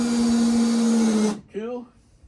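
A power drill drives a screw into deck boards with one close, steady whine that stops abruptly, followed by a brief spoken voice.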